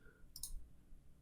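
A single faint, short click sounds from a computer mouse while working in Excel 2019 on a quiet desk, with no speech.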